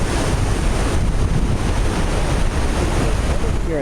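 A waterfall flowing toward the Yellowstone River in Montana rushes as a loud, continuous broadband roar, close and unbroken, with heavy wind buffeting the microphone.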